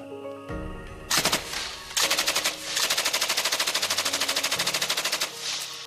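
Loud bursts of machine gun fire rake a treeline at night in a war zone, the rapid, rhythmic rounds coming in several long strings with brief pauses between them, close and alone without speech.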